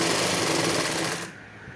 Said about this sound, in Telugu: స్ట్రెయిట్గా ఒక స్టిచ్ అనేది వేసేసుకొని